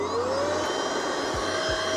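Steady, loud whirring drone of an Outdoor Master Shark 3 electric SUP pump inflating a paddleboard, vacuum-like in tone with a rising motor whine, running continuously and close.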